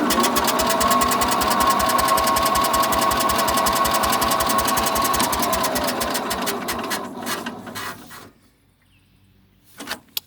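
A John Deere GT225 lawn tractor engine cranks steadily at choke and full throttle without catching, a loud rapid chugging that runs for about eight seconds, then stops, followed by a brief clunk.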